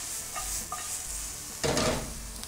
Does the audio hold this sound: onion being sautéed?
yes